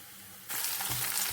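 Ginger frying in a pan with garlic, green chilies and curry leaves for a Kerala moru curry; after a quiet start, a sudden loud sizzle bursts in and continues steadily as the pan is stirred.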